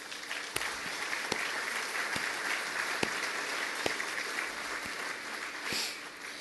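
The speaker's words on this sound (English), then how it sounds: "Please join me in giving all of our partners a round of applause" Faint, steady applause fills the room at a football club's Best and Fairest awards night, a dense wash of clapping with a few sharper individual claps standing out.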